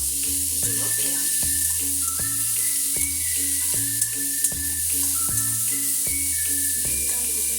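Chopped onion hits hot oil in a frying pan after potatoes have been fried, giving a steady hissing sizzle that runs throughout beneath rhythmic background music.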